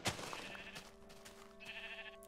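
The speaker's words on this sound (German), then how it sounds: "Da oben ist noch ein Schaf." A sheep in Minecraft bleats in short wavering cries, one sharp call at the start followed by a second drawn-out bleat later, fairly faint against quiet game ambience.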